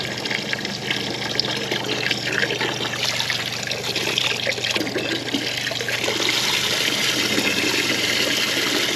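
Water streams steadily through a homemade filtration system supplying a recirculating shower, a constant hissing, trickling flow with a light splashing texture that carries on without a break throughout.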